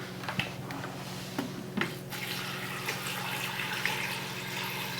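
Water runs steadily into a stock pot holding bay leaves and black pepper, a continuous close splashing fill with a few small clinks of pot or utensil.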